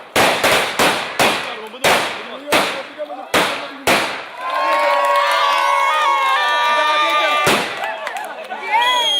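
Firecrackers burst in a rapid string of sharp, loud cracks at a crowd's celebration at a junction, followed by excited shouting and cheering from many people, then one more bang near the end.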